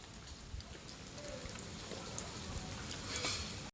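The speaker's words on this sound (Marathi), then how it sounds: "पावसामुळे इथं बघा किती पाणी चाललंय" Heavy, rain-swollen river water rushes at the Tulapur confluence of the Indrayani, Bhima and Bhama rivers, a steady broadband roar that stays constant throughout with no talking.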